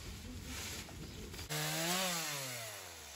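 A chainsaw cuts through a thick cherry tree trunk in a garden, a steady loud buzz until the engine revs higher midway and then slowly drops in pitch as the cut goes on.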